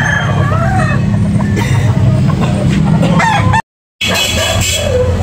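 A Hatch Grey gamefowl rooster at a Cebu poultry market crows and clucks up close, loud and repeated, with a brief dropout of silence near the end.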